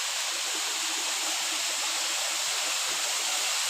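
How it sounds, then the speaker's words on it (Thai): Tat Waterfall in the forest during the rainy season, a steady, dense rush of falling water that holds unbroken and loud for the whole stretch, with no voices. "น้ำตกตัด"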